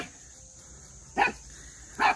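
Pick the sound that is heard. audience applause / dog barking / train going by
dog barking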